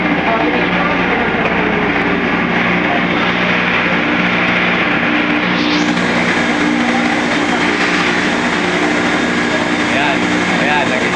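Repaired motorcycle engine running steadily, a loud close buzzing drone that holds at an even level throughout, with people talking under it.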